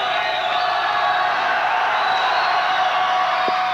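A high school basketball crowd in a 1990 home gym cheering and whooping, a broad continuous roar that holds steady throughout with no clear talk.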